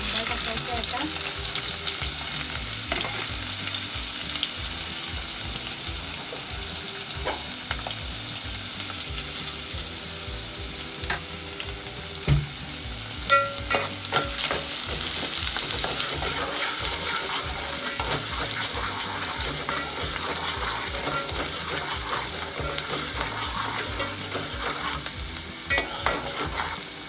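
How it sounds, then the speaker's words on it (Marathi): Finely chopped onion frying in hot oil for a Malvani prawn masala, stirred throughout: a loud, steady broadband sizzle with scattered scraping clicks of the spoon against the pan, continuous and close. "बारीक चिरलेला कांदा टाकायचा आता."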